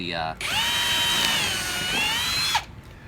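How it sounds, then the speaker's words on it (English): A power drill whirs steadily for about two seconds, its pitch dipping slightly under load, then winds down and stops. "I'm just gonna drill the hole where I want it"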